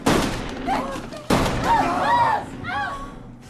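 Two sharp gunshot bangs ring out from above in a thriller film, one at the start and another about a second later, with voices crying out between and after them.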